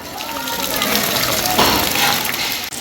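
Floodwater rushes after heavy rain and upstream runoff in Bandarban, Bangladesh: a loud, continuous roar of gushing water, close and unbroken.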